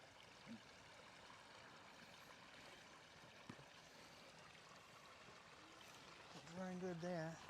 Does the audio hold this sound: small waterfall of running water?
yes